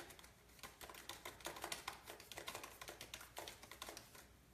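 Quiet late-night keyboard typing, a steady stream of soft key taps in uneven bursts, heard close and alone against a faint background hiss.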